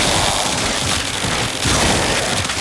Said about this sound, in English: you get a blender of penta grenades bonking enemies over and over again, and it makes a funny sound